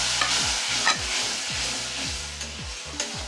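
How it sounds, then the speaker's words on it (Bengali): Spice paste with chili and turmeric powder being sautéed with a little water, loud close sizzling under a rhythmic series of spatula scrapes against the pan, roughly two per second, with no talking. "এরপর একটু জল দিয়ে মশলাটাকে ভালো করে কষিয়ে নেবে।"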